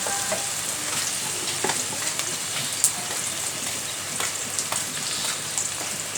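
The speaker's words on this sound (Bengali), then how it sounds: "আমরা একটু নেড়ে নিচ্ছি, কারণ সেটা যাতে মিশে যায়।" Papaya and turmeric are stirred in a pan, a steady close sizzle of frying broken by soft scraping stirs and light spatula taps throughout, with no talking.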